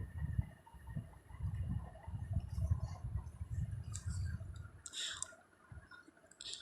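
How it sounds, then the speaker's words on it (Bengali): Scissors snip green chillies into thin slices for a green mango Kashmiri pickle, giving a quick run of soft, close clicks and cuts in a steady rhythm, with no talk. "আমি একটা কেচি দিয়ে মরিচগুলো একদম চিকন চিকন করে কেটে নিচ্ছি"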